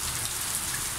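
Steady rain falls in cold, windy weather, a dense continuous hiss of drops on surfaces, loud and unbroken throughout with no voices.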